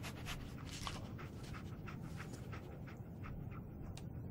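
Dogmeat, the dog companion in Fallout 4, panting steadily and close-up in quick rhythmic breaths over a low background hum.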